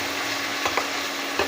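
Steady sizzling of tomatoes frying in a pan for dal rice, with a few soft scraping stirs of a spoon through the food, close and moderately loud.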